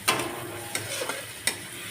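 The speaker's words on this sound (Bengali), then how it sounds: "এখন মশলাটা কষাচ্ছি" Spice paste for a shutki (dried fish) curry frying in a pan gives a soft, low sizzle broken by a few brief scraping stirs of a spoon, fairly quiet and close, with no voices.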